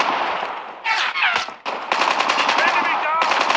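Rapid automatic gunfire from Call of Duty Mobile, bursts of loud close shots with a brief pause, then sustained fire to the end.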